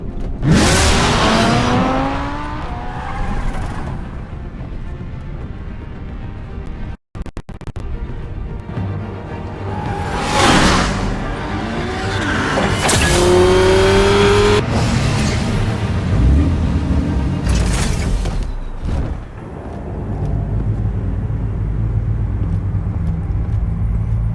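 A car in the Batman Telltale Series game revs and accelerates away, its engine droning loudly and steadily with rising whines and a brief dropout midway before fading slightly at the end.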